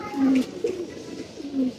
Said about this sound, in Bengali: 2টা কবুতর উঠতেছে